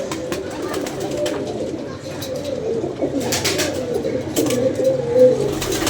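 Pigeons coo in low, repeated throaty calls amid a busy, rustling backdrop, with occasional sharper sounds and faint voices in the background.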